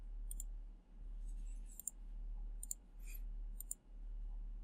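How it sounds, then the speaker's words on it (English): A computer mouse clicks several times in a quiet room, crisp close clicks arriving singly and in quick pairs over a low steady hum. "click download"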